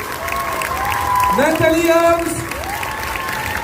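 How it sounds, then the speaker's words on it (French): Applause from a convention audience for voice actors at Geek Days 2024, a steady crowd wash sitting under a loud announcer voice and rising slightly mid-clip. "Vous pouvez applaudir chaleureusement, s'il vous plaît, Emmanuel Curtin,"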